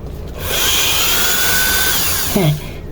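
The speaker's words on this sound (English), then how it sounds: "I actually trimmed down the rest of the longer claws using, of course, my Dremel tool here." A Dremel rotary tool grinding down LEGO plastic dinosaur claws, a high steady whine spinning up, holding for about two seconds, then a brief pitch drop as it stops, close and loud.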